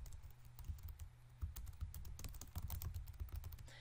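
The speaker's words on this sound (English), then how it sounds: "you want to type in your heading right here" Keys clack in a quick, uneven patter on a computer keyboard as a heading is typed, close and fairly quiet over a low steady hum, with no talking.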